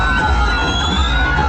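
A large Tamil cinema audience cheers and shouts at a screening of the movie Karuppu, a dense, sustained roar of crowd excitement with no clear breaks.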